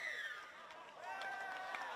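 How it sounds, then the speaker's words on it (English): Crowd at a schoolboy rugby match in the Langer Trophy, Marsden SHS against Palm Beach Currumbin, cheering and shouting in a steady, lively roar that runs underneath a commentator's voice. "you hear plenty of support from the crowd as well"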